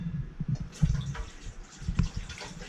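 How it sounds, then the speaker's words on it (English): Lime juice pours into a warmed cooking pot for ceviche, a soft, uneven splashing trickle with small drips and gurgles, close and fairly quiet with no talking. "We're going to add our lime juice."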